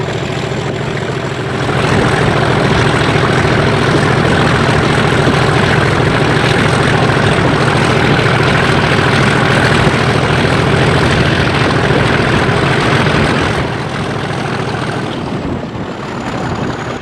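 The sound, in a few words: Class 37 diesel locomotive engine running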